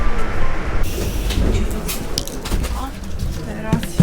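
Rumble and clatter of a moving Polish InterCity train, heard from inside a carriage with a steady low roar and occasional rattles, while people talk nearby.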